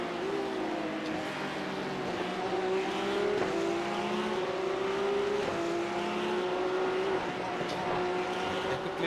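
A Porsche Cup race car at the Nürburgring in a racing game, its engine droning steadily and loudly throughout, pitch climbing and dropping with gear changes.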